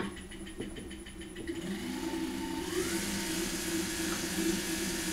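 A small electric motor on a Taig mill power drawbar whirs up to speed and settles into a steady, fairly quiet hum with a rising tone, running alone.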